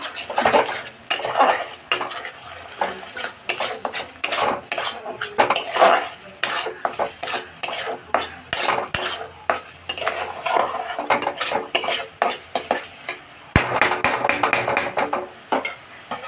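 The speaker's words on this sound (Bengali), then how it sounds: "এবার আমি আবার একটু নাড়বো" A spoon stirs eggplant masala in a metal pan, producing a rapid run of close, loud scraping and clinking strokes over a light sizzle that continue throughout without speech.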